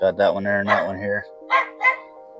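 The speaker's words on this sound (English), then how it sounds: "You can hear my dog barking." A dog outside gives two short, muffled barks after a man's nearby speech, faint and somewhat distant.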